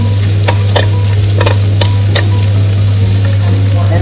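Pork sisig fries loudly in rendered fat, a dense steady sizzle broken by several sharp scraping strokes of a utensil stirring the pan.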